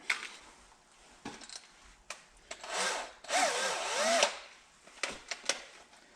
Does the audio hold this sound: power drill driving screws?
yes